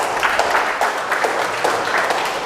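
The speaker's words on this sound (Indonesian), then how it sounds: "Tepuk tangan dong buat guru-guru sini." An audience claps for the teachers at a talk on effective communication, a steady wash of many hands applauding at moderate loudness throughout, with no voices over it.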